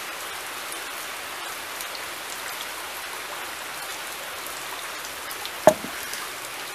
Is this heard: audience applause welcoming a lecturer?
no